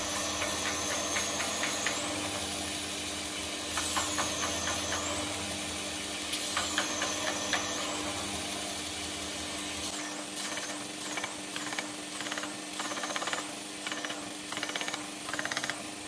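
A Japanese kitchen knife blade being polished with 400-grit abrasive, producing a steady, loud, hissing grind with a constant motor hum and rhythmic rubbing strokes throughout.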